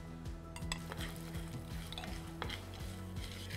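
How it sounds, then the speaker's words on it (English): Lentils toasting in a little ghee on a slow flame, a steady soft sizzle with a spoon stirring and clinking against the pan, close and continuous with no talking. "So we're toasting the lentils on a slow flame."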